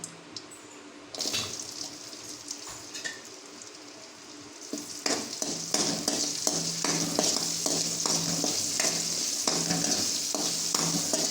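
Ingredients fry on a low flame for a village-style radish mutton curry, a quiet start that swells into a steady hiss, with rhythmic scraping strokes as the pan is stirred.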